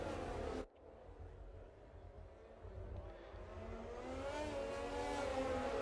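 Cars in the F1 2020 video game on the formation lap at the Mexico GP, engines droning and rising in pitch as they rev, fairly quiet at first and building steadily louder.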